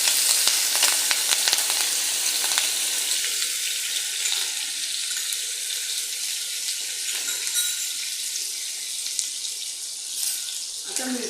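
Six green chillies are dropped into hot oil with mustard seed tempering for a rich festive dish, giving a loud, steady close sizzle with crackling pops throughout.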